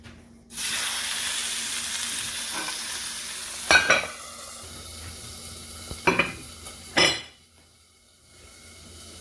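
Food frying in a pan covered with a plate, a steady sizzle running throughout with a few clinks of the plate and pan on top, close and fairly quiet.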